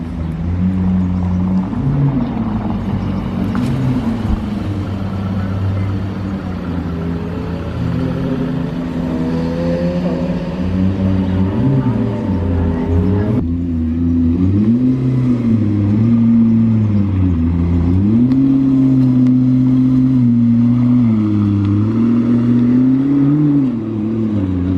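A Mercedes-AMG Black Series hypercar on a closed road roars past, its engine note rising and falling in loud sweeping revs that swell as it approaches and carries on for a long stretch.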